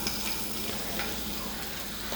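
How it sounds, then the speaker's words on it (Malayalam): Chopped ginger and garlic frying in hot oil with fenugreek seeds, a steady close sizzle with light stirring scrapes, continuous and fairly quiet, no talking. "എണ്ണ ചൂടായി വരുമ്പോൾ 1/4 സ്പൂൺ ഉലുവ ഒന്ന് പൊട്ടിക്കഴിഞ്ഞാൽ അതിലേക്ക് കുറച്ച് ഇഞ്ചിയും വെളുത്തുള്ളിയും ചെറുതായിട്ട് അരിഞ്ഞത്"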